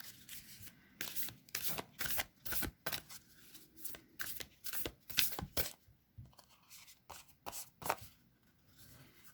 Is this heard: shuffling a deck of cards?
yes